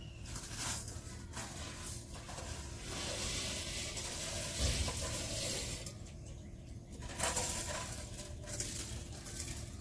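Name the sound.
moong dal being added to the khichuri pot and frying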